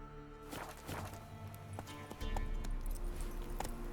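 Hooves of the horse Roach clip-clopping in The Witcher video game, a steady quiet rhythm over a soft game soundscape, picking up slightly in the second half.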